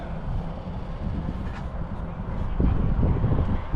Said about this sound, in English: It's fairly windy out here.